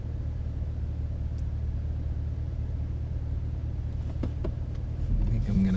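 Low, steady engine rumble from a 2016 Cadillac CTS-V while driving, a constant deep drone heard from inside the car, growing slightly louder toward the end with a few faint clicks.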